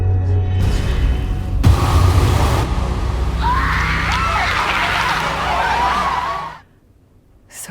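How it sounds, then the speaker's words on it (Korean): Massacre screams from the horror video game The Medium form a chaotic burst of overlapping distant wails over a low rumbling drone, fading abruptly into near silence. "그녀는 그곳에서 학살이 일어났을 때의 비명 소리가 담긴 신발을 발견합니다."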